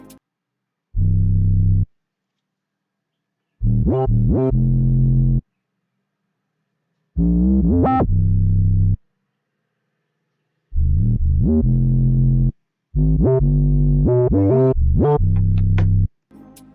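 Deep, sliding bass notes with sharp drum hits from a Kenyan drill beat in FL Studio play in short bursts, each phrase separated by silence; the beat is heavy and booming.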